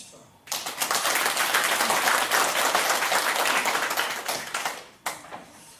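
A church congregation applauding during a Sunday sermon, loud sustained clapping from many hands lasting about four seconds before fading, followed by a short final burst of claps.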